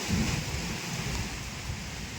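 Heavy rain with thunder pounding down on mango trees, a dense, steady downpour with deep low rumbling underneath, and no voices.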